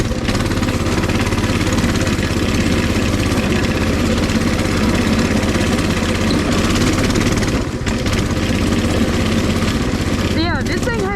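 The 196cc engine of a Coleman 200cc mini bike with a torque converter runs steadily and loudly throughout, a continuous close chugging drone, with a voice talking over it near the end.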